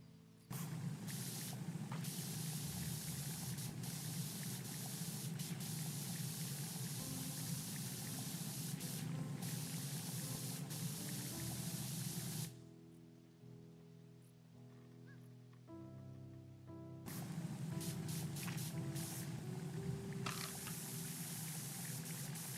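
A pressure washer sprays water in the video game Powerwash Simulator 2, a loud continuous hiss that stops for a few seconds midway and then resumes.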